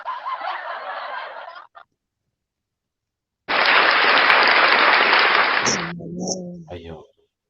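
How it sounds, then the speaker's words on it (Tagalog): Two bursts of crowd applause separated by a short silence, the second louder and longer, ending with a brief snicker and a few laughs. "Palakpak naman dyan,"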